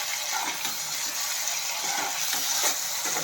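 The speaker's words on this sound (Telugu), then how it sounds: "ఇందులో ఈ పేస్ట్ వేసేసేయాలి వేసేసి చక్కగా కలుపుకోవాలి మనం" Spice paste being stirred into a pumpkin and grated coconut curry in a pan, a steady wet sizzle and soft scraping that runs continuously and fairly loud with no talking.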